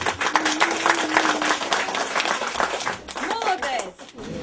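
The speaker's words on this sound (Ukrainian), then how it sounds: "Ваші оплески, будь ласка." Dense clapping from a crowd at a St. Nicholas Day event at a special boarding school fills the clip, steady and loud, with a few voices and cheers rising over it near the end.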